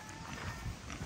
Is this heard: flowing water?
no